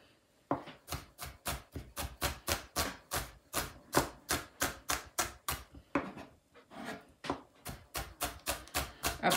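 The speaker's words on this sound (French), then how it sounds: "On va couper notre échalote. On va la ciseler" A knife finely chopping a shallot on a board, a fast, steady run of crisp close taps that pauses briefly around the middle and then resumes, with no talking.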